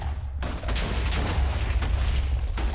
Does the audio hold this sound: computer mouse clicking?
no